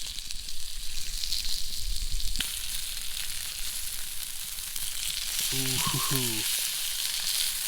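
Trout and steak sizzle on a hot rock over an outdoor fire, a steady hissing crackle throughout with a short exclamation from a voice near the end.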